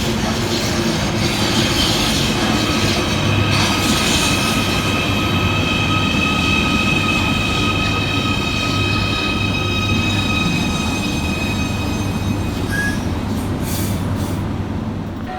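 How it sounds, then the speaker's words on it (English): Merseyrail Class 777 electric multiple unit pulling into a station on the Ormskirk to Hunts Cross service, a steady rumbling roll with humming traction motors and faint wheel squeal, loud and close throughout with no talk. "Arriving next into the station is 777 148, working the 1446 Merseyrail electric service from Ormskirk through to Hunts Cross."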